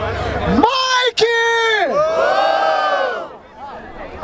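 A crowd at a rap battle in Barueri, São Paulo, roars and whoops loudly, a massed cheer with rising shouts that swells and then fades.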